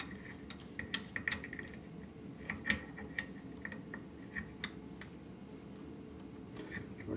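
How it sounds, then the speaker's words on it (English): Small metal clicks and taps from an adjustable crescent wrench tightening supply and waste fittings under a sink with handles, scattered and light over a steady background hum. "I've got a little adjustable wrench right here."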